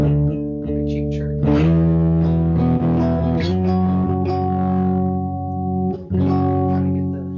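Bass guitar played through a pedalboard of effects, voiced to give a thin, chirpy, 12-string-bass-like shimmer; sustained notes ring out loud and close, with repeated plucked attacks and a brief dip near the end.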